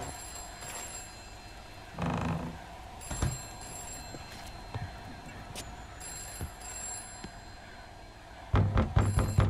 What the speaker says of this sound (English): Fucking phone ringing.